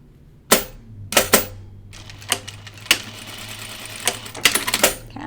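Sewing machine back stitching lightweight dress fabric in bursts of rapid, loud mechanical clatter separated by brief pauses, with a steady low motor hum running between the stitching runs; no talking.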